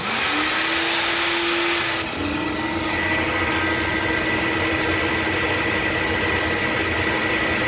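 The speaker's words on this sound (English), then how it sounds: "we have the Holley Systemax 2 bolted to the flow bench, and we're getting ready to flow it" An airflow bench draws air through the number one runner of a Holley Systemax 2 intake manifold, a loud steady vacuum-like roar with a faint tonal hum, continuous throughout.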